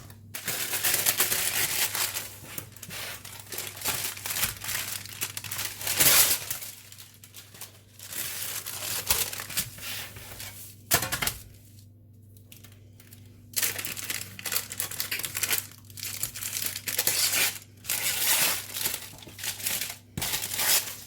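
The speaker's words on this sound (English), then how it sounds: "maybe I will put some baking paper in just in case" Non-stick baking paper crinkles and rustles for a long stretch as it is pressed into a lift-out cake pan, close and fairly loud, with brief pauses and a few sharper crackles.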